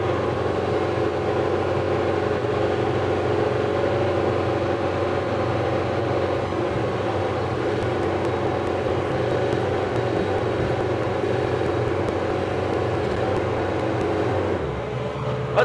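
A 2020 JCB 1CXT compact backhoe loader's diesel engine runs steadily at close range with a constant droning hum, holding level throughout before easing off slightly near the end.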